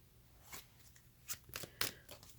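Tarot cards being shuffled by hand, giving a few soft papery riffles and flicks in quick, uneven bursts, close and fairly quiet, with no talking.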